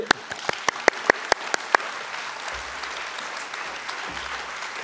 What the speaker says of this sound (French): Pour qu'on applaudisse Gilles.